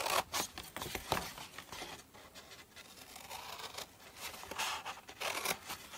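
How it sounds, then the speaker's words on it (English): Scissors cut paper along a score line in a quiet close-up, with soft intermittent snips, rustles and scraping paper sounds spread irregularly across several seconds. "I'm just going to go ahead and cut to the score line"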